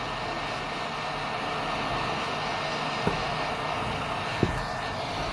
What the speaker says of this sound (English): I'm going to take my heat gun at my blower at 250 degrees Celsius